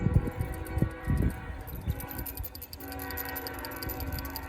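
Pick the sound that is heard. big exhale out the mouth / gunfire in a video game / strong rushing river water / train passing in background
train passing in background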